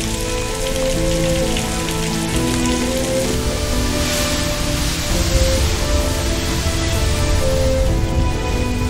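Steady rain falls across the Gobi desert during its short summer rainy season, a continuous dense hiss of drops hitting the ground, even and close with no voices.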